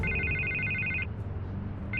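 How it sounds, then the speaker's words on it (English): A telephone rings in Batman: The Telltale Series, a bright electronic trill sounding for about a second, pausing, then starting again over a low game background. "I can't get the phone to stop ringing."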